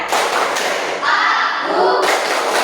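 A group of people in a class clap their hands together in a rhythmic chant, with several loud, sharp claps close by and a short pause between bursts.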